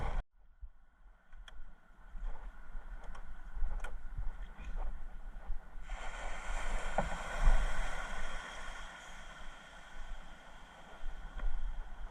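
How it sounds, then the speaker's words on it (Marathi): A small fishing boat travels across coastal water toward the fishing nets. A low rumble mixes with water and wind noise, which grows louder and broader after about halfway. Faint scattered clicks are heard, and no one talks. "आपण आपली दुसरी होडी घेऊन चाललोय."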